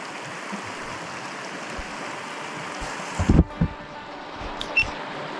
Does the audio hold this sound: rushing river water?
yes